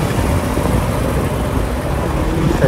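A BMW M6 rumbles nearby with a steady, low engine drone and road noise, a continuous level sound without talk.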